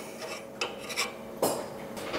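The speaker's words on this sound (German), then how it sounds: "Die Farbe rauskratzen" A triangular hand scraper rasps paint out of a metal part in a few short, gritty scrapes, with quiet pauses between the strokes.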